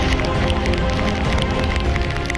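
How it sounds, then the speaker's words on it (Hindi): Heavy monsoon rain in Mumbai, a loud, dense and steady hiss of downpour drumming on surfaces close by, with no break through the short stretch. "मुंबई में जबरदस्त बारिश,"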